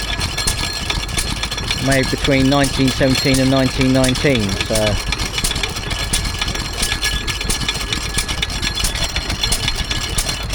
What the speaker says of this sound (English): we see what looks to be an Ingeco oil engine, type W,